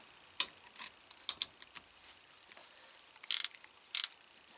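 A hand ratchet with a pivoting, lockable head clicks in short separate bursts, a few crisp close metallic ticks spaced over several seconds with quiet between them.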